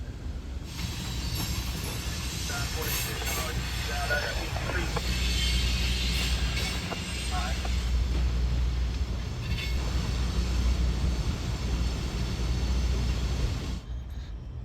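A CSX freight train locomotive, long hood forward, approaches the Waycross depot with a steady low rumble, rail noise and hiss building and holding near and loud, while someone talks over it.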